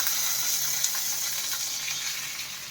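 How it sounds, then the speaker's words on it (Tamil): Water poured into a hot pan of roasted cumin while making rava pongal, giving a steady hissing sizzle that stays even and close from start to finish, with no one talking. "அதுக்கு வந்து 2½ கப்பு தண்ணி சேர்த்துக்கிடுவோம்."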